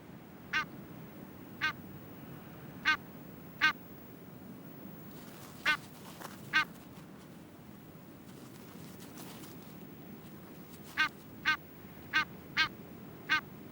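Pink-footed geese nesting on a rocky Arctic outcrop give short, sharp calls, spaced out in ones and pairs with a quiet stretch in the middle, then a faster run of five near the end, heard over a low steady background rumble.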